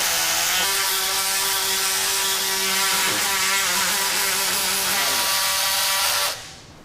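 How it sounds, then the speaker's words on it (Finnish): A bone saw cuts through bone during a hand transplant operation, a steady high-pitched whine with a droning tone, running continuously and loudly for about six seconds before stopping abruptly. "Sitten me sahataan."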